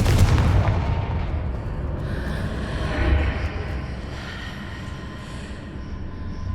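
A Confringo fire spell detonates in Hogwarts Legacy with a heavy, rumbling blast at the start, then a long roaring, clattering tail and a second smaller burst before it fades.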